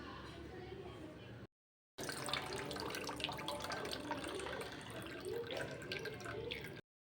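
Water splashing and trickling as it is drained off paneer into a sink, continuous apart from a short silent break early on.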